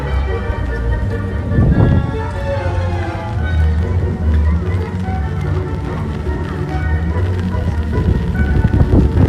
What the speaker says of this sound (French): Les gens sont tous sur le parapluie et tout, il pleut à torrent.